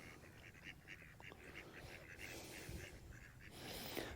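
Ducks quacking softly near a frozen duck house on a cold January day in Alabama, a faint run of repeated short calls in a quiet outdoor setting, distant and low in level.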